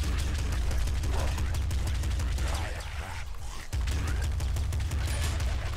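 Rapid gunfire rattles through a session of the Nuclear Throne video game, dense overlapping shots in a near-continuous burst with a brief dip midway before resuming, loud and close.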